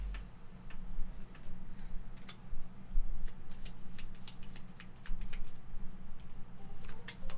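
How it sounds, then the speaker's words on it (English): Game cards being shuffled at a tabletop session, a run of quick, light ticking snaps and riffles repeating irregularly over a low background hum, with no talk. "We're going to shuffle these because somebody's going to get a Delver card at some point."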